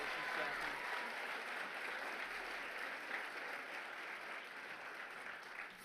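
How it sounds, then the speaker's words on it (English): Sustained applause from an audience at a university leadership awards ceremony, steady dense clapping that holds at an even level throughout and tapers slightly near the end, with no voices over it. "if you could just give them one more round of applause, that would be great"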